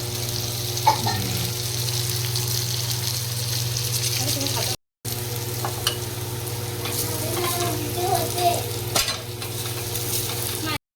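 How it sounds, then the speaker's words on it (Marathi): Bombil fish frying on a griddle, sizzling and crackling, with occasional stirring clinks over a constant low hum and a brief silent gap midway. "बोंबील जातील मस्त तव्यावर."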